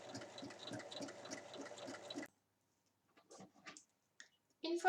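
A sewing machine stitches along a traced line on fabric for a small bag, a fast even rattle that runs for about two seconds and then stops, followed by a few faint handling clicks and rustles.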